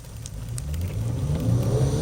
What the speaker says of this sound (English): we're going to take off in 4-wheel low